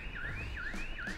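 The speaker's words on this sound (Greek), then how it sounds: "Να δω πότε θα σταματήσει αυτός ο συναγερμός." A car alarm wails nearby in a repeating siren pattern, its pitch sweeping up and dropping three times in quick succession, with no one talking.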